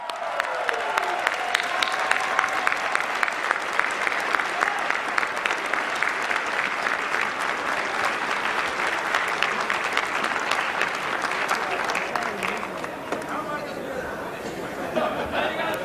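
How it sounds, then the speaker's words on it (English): A Libertarian National Convention crowd claps steadily and densely for a long stretch after an auction sale, with murmured chatter underneath and a slight thinning toward the end. "Give him a round of applause."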